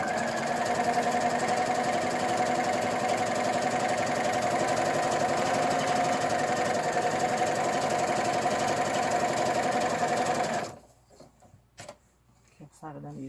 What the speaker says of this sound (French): Là, tu viens coudre ton zip.